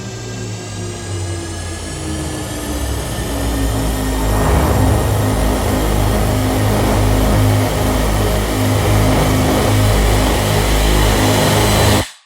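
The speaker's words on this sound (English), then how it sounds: "If you're going for spirally outer space sounds, this is a great part for that." Spiraling outer-space synth textures from the Hybrid Tools Paragon sound library, layered tones gliding slowly in pitch over a dense low rumble, building loud and holding steady before cutting off abruptly.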